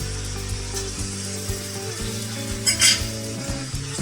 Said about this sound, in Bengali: দিয়ে এটাকে ভালোভাবে কষিয়ে যেতে হবে যতক্ষণ না এটা থেকে তেল ছাড়ে